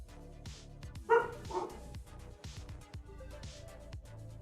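Dogs bark in the background of an indoor room, a short burst of two or three loud barks near the start, then quieter muffled sounds under a steady low hum.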